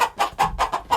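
A chicken in a winter coop sitting on warm eggs clucks close by: five or six short, throaty clucks in a quick, even rhythm, clear and alone.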